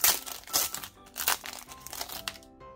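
Pokémon GO trading card booster pack wrapper being torn open and handled, a close, crisp run of plastic crinkling and crackling in quick irregular bursts that fade out at the end.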